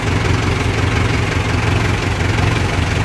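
A New Holland tractor engine idles through a paddy harvest, a loud, steady low rumble with continuous vibration and no pauses, close by and alone.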